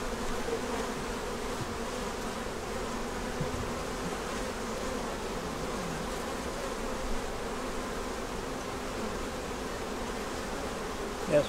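Honey bees buzz steadily at an open hive while honey is pulled and frames are checked, a continuous close, even drone with no talking over it.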